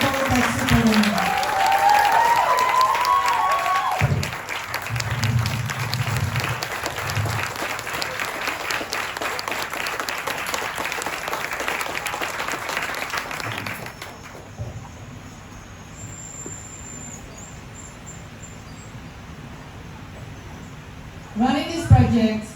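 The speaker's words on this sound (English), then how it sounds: "let's give a really, really big applause for the Coworkers Superwomen" Big audience applause at an opening conference plenary, loud sustained clapping for several seconds that gradually thins and fades into quieter room noise, with a brief burst of sound near the end.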